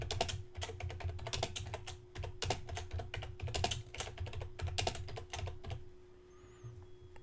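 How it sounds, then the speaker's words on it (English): Rapid typing on a computer keyboard, close and clear, with dense clusters of keystrokes and brief pauses, ending in quieter room tone; no talking. "I'm going to go ahead and type,"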